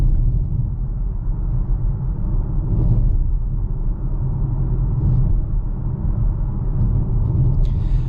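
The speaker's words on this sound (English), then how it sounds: "you do get some noise from the tires and suspension going over these bumps" A 2022 Volvo C40 Recharge rolls over road bumps, its tires and suspension giving a steady low rumble with a few soft thumps, heard from inside the cabin, fairly even and moderately loud with no talking.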